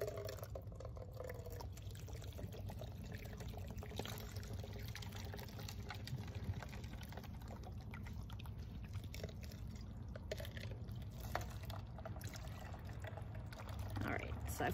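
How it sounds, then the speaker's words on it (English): Water poured steadily into containers of soil, a continuous low liquid gush with faint trickling, running for about fifteen seconds at moderate level. "So I've poured all my water in."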